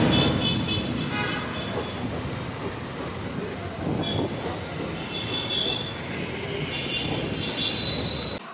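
Train at a railway station, with steady rolling wheel noise and intermittent high metallic squeals from the wheels, loud and continuous throughout with no talking.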